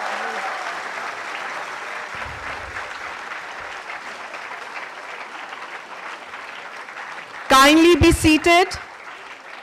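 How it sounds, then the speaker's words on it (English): A launch-event audience breaks into a wash of clapping for the dignitaries, sustained and fairly loud, while a voice speaks over it and a short burst of other sound cuts in near the end. "Let us keep up the energy and applaud"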